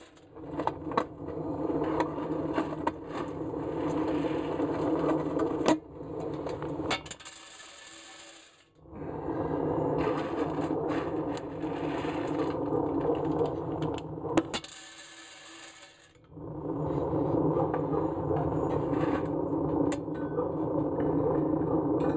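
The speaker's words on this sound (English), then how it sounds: "Then you can hear the draft is really, really getting high." A pellet-fed rocket stove for floor heating, with a timer and a speed-controlled draft motor, gives a steady mechanical whir and rushing draft that cuts out twice for about a second before resuming, with faint rattling throughout.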